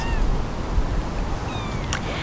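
Kittens on a homestead meowing, a few thin, high mews rising out of a steady, noisy background, fairly faint and scattered rather than continuous.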